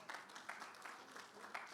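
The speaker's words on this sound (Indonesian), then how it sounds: "mari berikan tepuk tangan" Church congregation applauding during a Sunday service, soft and distant, a short patter of steady clapping.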